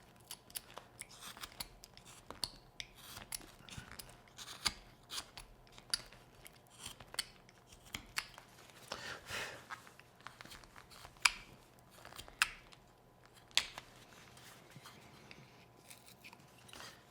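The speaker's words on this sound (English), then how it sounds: "Come in with our knife, remove that excess of where we used our V-tool." A carving knife shaves excess wood while carving a small bear figure, giving faint, close scraping and crisp little cuts in an irregular series of short strokes over a quiet room.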